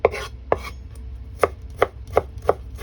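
A knife chops onion, garlic and ginger on a cutting board for chicken sotanghon, with about eight sharp, close strokes landing at an uneven pace and no talking.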